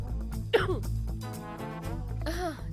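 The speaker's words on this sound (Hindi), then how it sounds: "वो जरा खांसी हो गई मुझे, गले में कुछ अटक गया।" A single throaty cough or throat clearing bursts out sharply, followed by murmured vocal sounds over a steady low background hum.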